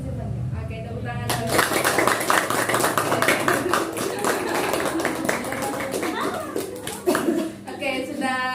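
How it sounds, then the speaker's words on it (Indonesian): A group of students in a small guidance-group session clap their hands together, a dense burst of close claps for about six seconds with a brief flare near the end, while children's voices and light chatter mix in underneath. "Oke, tepuk tangan."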